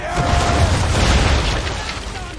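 Cannon fire and a black powder explosion in Assassin's Creed III roll out as a loud, sustained, close boom with a rumbling low end that slowly fades, with a faint voice beneath.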